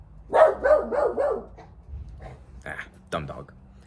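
A short run of yappy barks from a small dog, then quieter scattered noises and a brief voice near the end.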